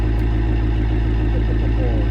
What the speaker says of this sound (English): I definitely love V8s, and let's see how this thing will sound.